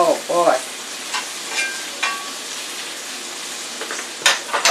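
Chicken nuggets fry in grapeseed oil with a steady, moderate sizzle. A few scrapes and clinks sit on top, and a short voice-like sound comes at the start.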